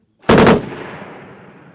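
A short, loud burst of machine-gun fire from an Oplot tank's machine gun, several rapid shots close together, followed by a fading rumbling echo.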